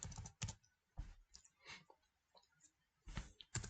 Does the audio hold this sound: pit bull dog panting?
no